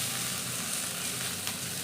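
Onions and green chilies frying in a pan give a dense, steady sizzle, close and continuous, with no talking.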